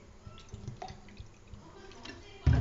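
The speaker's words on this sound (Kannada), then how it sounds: "ನೀರು ಹಾಕ್ಕೊತಾ ಇದ್ದೀನಿ" Water poured from a cup into a pan while making vermicelli kheer (shavige payasa), a faint, soft trickle of liquid in a quiet kitchen that ends with a brief louder splash.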